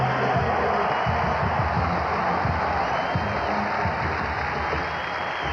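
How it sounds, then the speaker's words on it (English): Sustained applause from a big college football stadium crowd of nearly 60,000 at a 1990 USC homecoming game against Arizona, a steady wash of clapping spread over a wide space with a commentator talking over it. "give him a round of applause"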